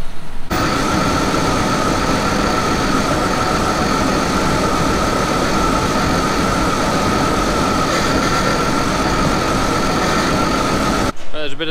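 A farm tractor engine running steadily at idle beside a wagon, a loud, constant low rumble with a throbbing hum that holds for about eleven seconds before cutting off.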